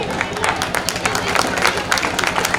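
Scattered clapping from a crowd at a school prize distribution, fairly loud and uneven, with a murmur of voices underneath.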